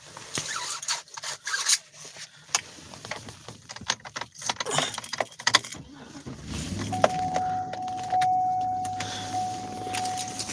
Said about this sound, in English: let me start this car